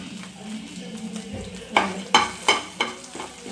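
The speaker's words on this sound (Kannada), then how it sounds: "ಹಾಕಿ ಚೆನ್ನಾಗಿ ಫ್ರೈ ಮಾಡಿ" Cumin seeds fry in oil in a pan for a Mangalore-style prawn curry, a soft close sizzle with several sharp scraping stirs and clinks near the end.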